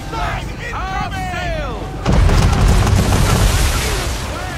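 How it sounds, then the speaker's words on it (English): A ship's cannon broadside in Assassin's Creed 3 erupts as a heavy rumbling barrage of booms, following shouted voices and sustaining a loud low roar to the end. "Big broadside incoming!"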